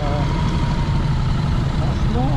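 Many motorcycles idle and rumble together at the Wheels and Waves gathering, a steady, dense low engine drone with voices murmuring underneath for a couple of seconds.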